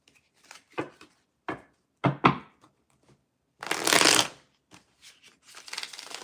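Tarot cards shuffled in uneven bursts, with sharp slaps and short riffles separated by pauses, then one longer, louder riffle, close and clear with no talking.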